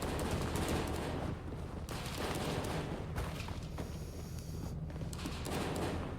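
Gunfire in a zombie survival video game comes as repeated bursts of fusillade, loud and dense, with short pauses between volleys and no talking over it.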